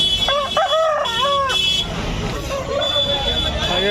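A rooster at the Nellore poultry market gives a loud, close crow of several wavering harmonic notes early on. Market chatter and background noise continue after it.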